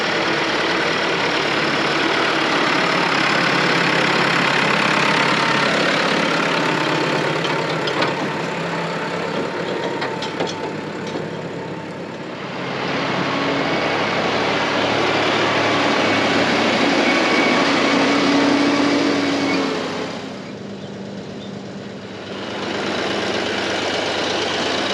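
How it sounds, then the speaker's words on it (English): A heavy diesel tractor engine idles steadily and loudly nearby, a constant rumbling drone that dips briefly twice before returning. "take down both the loader and the tractor with the spreader"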